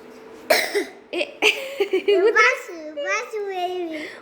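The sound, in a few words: coughing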